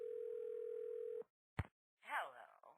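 A steady telephone dial tone hums alone for about a second, then stops, followed by a short click and faint noises as a call is placed back.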